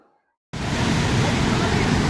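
A riverbank during a flood after nonstop heavy rain, the swollen river roaring as a loud, dense, continuous rush that starts abruptly after a moment of near silence.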